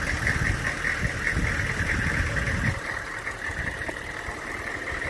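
A Chevy Express 3500 van's 6.5L diesel engine idles steadily, recorded from outside the vehicle, with a continuous low rumble and faint clatter and no talking.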